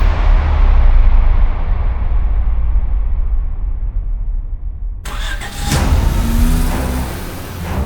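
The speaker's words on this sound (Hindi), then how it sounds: "चलो गाड़ी चलाओ" A car engine runs steadily with a low, even drone, then the scene cuts abruptly to a different stretch of road noise with passing rumbles and higher-pitched engine tones.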